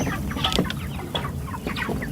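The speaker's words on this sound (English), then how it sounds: "I think the chicks are making quite a mess" Young chickens around day 31, clucking and cheeping busily while eating breakfast; many close, overlapping short calls over a dense background of scratching and pecking.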